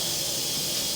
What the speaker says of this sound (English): I better cover up that steam.